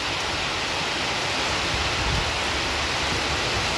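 A loud, constant wash of heavy rain with very large drops, broad and unbroken like rushing water, with nothing else audible.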